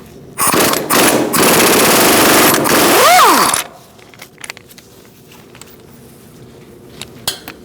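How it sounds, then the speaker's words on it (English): A 21mm socket spins off the brake caliper bolts on the front of a 2004-2012 Chevrolet Colorado, a loud, harsh rattling burst lasting about three seconds before dropping to near quiet with faint clicks. "Using a 21mm socket, we're going to take off these two bolts for the caliper."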